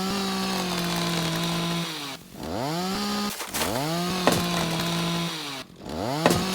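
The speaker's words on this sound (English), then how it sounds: "Got a chainsaw, baby." A chainsaw cuts a tree in the video game Rising World, its engine droning steadily and then dropping and revving back up in repeated swells, loud and close, with no voices.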